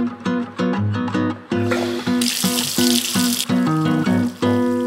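Bathwater filling a tub in the Roblox Bloxburg game, a broad gushing rush heard under steady music with a repeating melody, the flow swelling loud midway.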